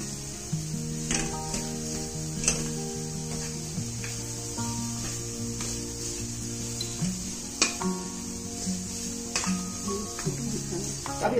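Jaggery melts in a pan while a spoon steadily stirs and scrapes it, with a soft sizzle over background music, while making modaks.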